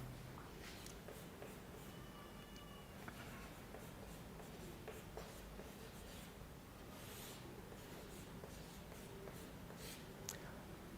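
Chalk or marker scratching on a board during a physics class, soft intermittent strokes over a steady room hum, faint and close, with no speech.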